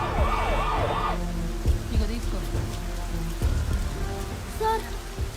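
An ambulance siren wails in rising and falling sweeps during the first second, then fades into steady rain pattering on a surface amid idling traffic in a jam, with a faint tonal horn later and no talking.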